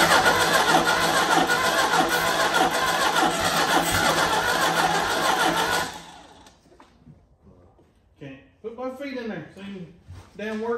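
A 1994 Chevy S10 engine that sat uncovered in the woods for five years cranks and runs loudly and steadily for about six seconds, then cuts out, and people talk afterward.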